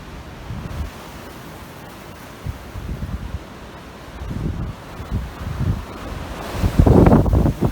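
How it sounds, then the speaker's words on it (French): Strong wind gusting across an exposed mountain trail near Bugarach peak, buffeting the microphone in uneven low roaring bursts that swell louder toward the end, with no talking. "Beaucoup de vent, toujours."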